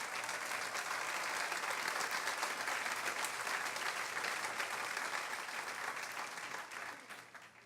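A church congregation applauding, a steady, full wash of many hands clapping for several seconds at moderate distance, tapering off at the end, with no speech over it.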